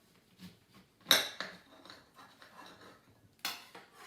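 A knife cutting an orange in half on a board, with a sharp clack of the blade hitting the board, a few quieter scrapes and taps, then a second firm knock, close and without talk.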